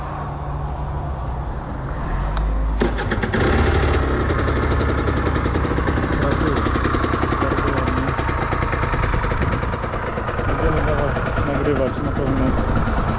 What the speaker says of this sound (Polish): silnik naprawdę pracuje